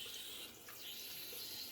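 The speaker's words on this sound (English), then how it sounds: "you can hear my water running" Warm tap water runs into a bathroom sink in a faint, steady hiss and trickle, heard alone at low level.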